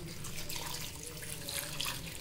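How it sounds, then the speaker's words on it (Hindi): A steady stream of water running and splashing as a glass of water is poured into a cooking pan, soft and continuous with no talking. "तो पानी बस मैंने अभी 1 गिलास डालना है।"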